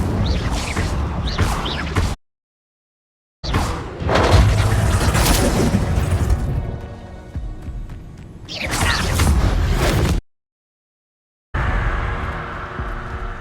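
Whooshing blasts and booms of the Incendio fire spell in the video game Hogwarts Legacy, several loud bursts separated by short silent gaps.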